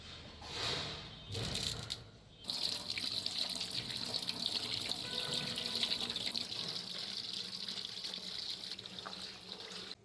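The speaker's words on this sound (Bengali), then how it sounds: "ধনিয়া পাতাও বেছে ধুয়ে নিলাম।" Tap water runs steadily into a sink while fresh coriander leaves are washed, a continuous close splashing stream after a brief uneven start.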